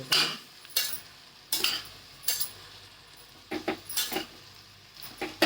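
A spoon stirring mixed vegetable curry with spices in a pan, a series of sharp scraping clinks against the metal, irregularly spaced and close, with a soft sizzle between strokes.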